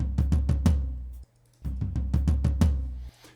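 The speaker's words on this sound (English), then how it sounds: "So the low tom alone sounds like this." Low tom drum played alone with EQ processing, a run of deep, booming hits in two quick bursts separated by a short pause, each stroke punchy with a resonant low-end decay and no other instruments.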